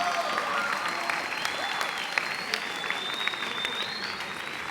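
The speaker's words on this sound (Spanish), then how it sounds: "un aplauso una vez más para Talía, por favor." Audience applause after a talk at a festival event in Lima, steady and fairly distant, with scattered whistles and cheers running through the full clapping for about five seconds.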